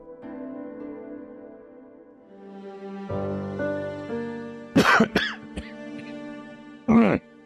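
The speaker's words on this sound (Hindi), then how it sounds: "खांसी क्यों हो रही है?" A few sharp coughs and a throat clearing, close and loud, over soft background music.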